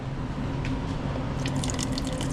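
Water runs into a container at a truck stop, a soft steady trickle with light splashing and drips that grows brighter toward the end, fairly close and alone.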